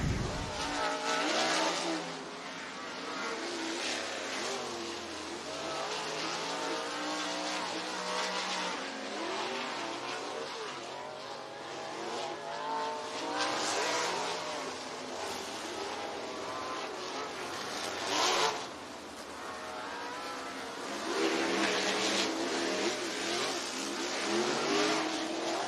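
Race cars idle and rev at Southern Raceway in Milton, Florida, ahead of a heat race, making a continuous distant engine drone with occasional louder surges and a faint tire squeal.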